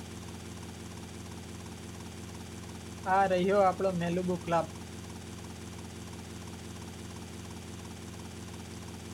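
A helicopter in the video game GTA Vice City gives off a steady, even rotor-and-engine drone that runs unbroken through the whole stretch. Someone briefly speaks over it partway through.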